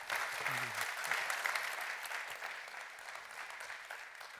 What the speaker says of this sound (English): Please join me in thanking our speakers with a round of applause.